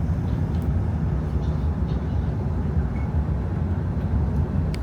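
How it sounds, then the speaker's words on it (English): A Chinese high-speed train moves with a continuous low rumble and rolling noise heard from inside the cabin, steady and fairly loud. "Yo, this train is moving."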